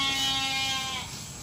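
Sheep and goats on a farm give a sustained bleat, then it tapers off, loud and close, with no talk.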